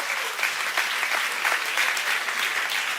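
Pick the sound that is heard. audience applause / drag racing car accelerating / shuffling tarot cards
audience applause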